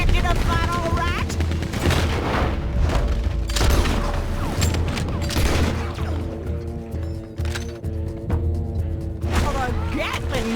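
Gatling gun fire in Red Dead Redemption 2: dense rapid bursts of shots and booms mixed with mechanical clatter, continuous and loud beneath music and talking voices.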